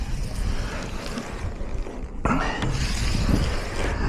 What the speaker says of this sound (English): Wind's starting to kick.